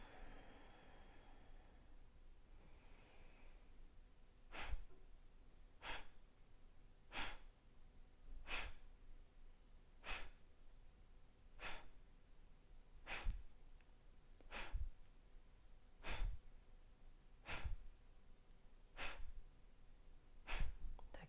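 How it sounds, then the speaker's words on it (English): Kapalabhati yoga breathwork: a run of short, sharp forceful exhalations through the nose, about a dozen evenly spaced pumps roughly one every second and a half, close and quiet, following a few softer preparatory breaths. "Kapalabhati. Take a couple of breaths first."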